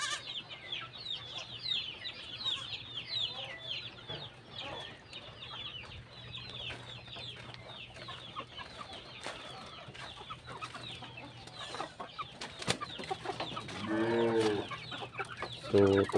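Rhode Island-cross chickens clucking repeatedly around a farm yard, with a steady chorus of fowl calls throughout and a louder, closer burst of clucking near the end.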